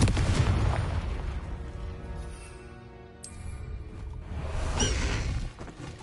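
An explosive Confringo spell cast in the Hogwarts Legacy video game, a burst of booms with whooshing blasts swelling and fading, followed by a second loud crackling surge.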